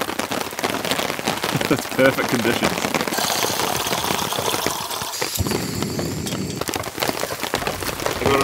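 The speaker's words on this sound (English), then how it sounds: "But you can hear that rain." Heavy rain falling steadily on a tent while camping in low wind, a close, dense patter and drumming across the fabric, with someone speaking briefly over it.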